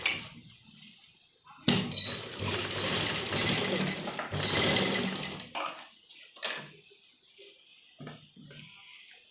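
A sewing machine stitches elastic onto a saree pleat belt in short mechanical bursts with whirring and clicking, separated by quiet pauses, close and moderately loud.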